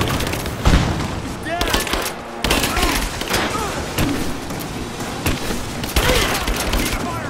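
Sustained gunfire in Rise of the Tomb Raider on PC: loud rapid bursts and sharp shots from several weapons, with booming impacts, over shouted in-game character voices throughout.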